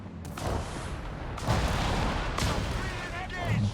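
An anti-tank gun fires in a Company of Heroes 3 match, a 17-pounder among the battle sounds: heavy booms and crashing gunfire roll continuously across the scene, with game voices and effects layered over it.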